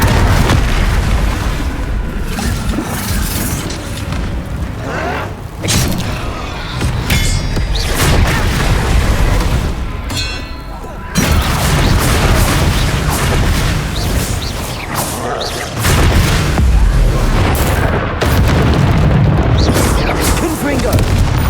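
Confringo blasting spells going off in the video game Hogwarts Legacy, a loud, dense run of booming explosions and bursts, mixed with game effects and a voice calling out spell names.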